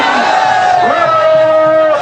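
A huge crowd in a city street, gathered to welcome the Chief Minister in Gwalior, cheering and shouting in a loud, continuous roar with a sustained tonal whistle or horn running through it.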